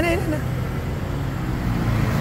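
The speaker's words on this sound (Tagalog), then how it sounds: "Maraming sasakyan." Steady road traffic rumbles close by as many vehicles pass, a loud, continuous low roar with a voice heard over it at the start.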